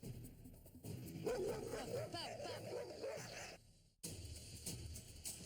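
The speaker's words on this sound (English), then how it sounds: "Okay, there's a dog." A dog yips and barks amid an outdoor walk encounter, the sounds overlapping with people's nervous talk and clothing rustle, then cut off briefly before ambient noise resumes.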